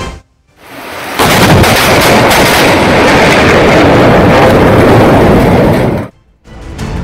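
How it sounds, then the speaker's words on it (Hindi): Loud lightning strike during rain, a sudden broadband crack that swells into a sustained roar of thunder and downpour for about five seconds, then cuts off abruptly, leaving a brief quiet before noise resumes. "धमाकेदार आवाज के साथ अचानक बिजली गिरी"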